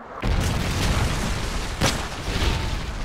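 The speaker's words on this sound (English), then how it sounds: "Friendly Predator missile inbound." Predator missile strike in Call of Duty Modern Warfare 3, a loud booming explosion with rumbling debris and a second crack partway through, filling the whole short clip.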